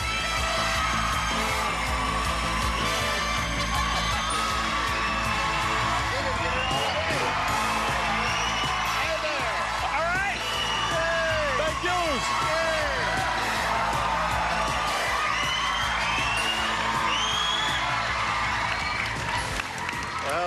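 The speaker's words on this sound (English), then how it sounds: "We love your enthusiasm and your screaming and hollering and applause and all that" Studio audience at the Match Game-Hollywood Squares Hour television game show cheering, whooping and applauding loudly and continuously, a dense roar of clapping and shouts with a voice talking over it.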